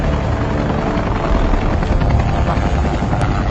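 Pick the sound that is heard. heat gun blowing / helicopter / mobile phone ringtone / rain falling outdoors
helicopter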